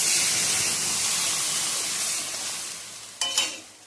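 Lentils (dal) frying in a hot pan with jute leaves, a steady loud sizzle and hiss that eases slightly before a couple of sharp stirring scrapes near the end.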